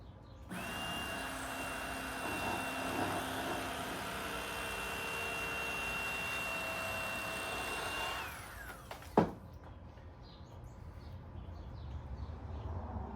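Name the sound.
Bubba electric fillet knife filleting fish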